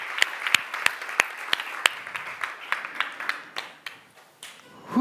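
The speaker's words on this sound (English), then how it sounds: "And this is one more applause for you." Scattered audience applause at an occult conference talk, individual claps clearly separated and uneven, thinning out toward the end, moderately distant, with no speech.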